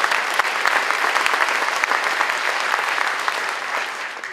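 Audience at a spring school instrumental concert applauding, a dense, even wash of many hands clapping continuously for several seconds, steady and close, with no talking over it.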